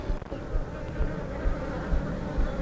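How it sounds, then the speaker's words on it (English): Honey bees swirl around an open hive during maintenance, a loud continuous buzzing drone close by with individual bees passing near and fading. "if I try to feed them with all these bees flying around"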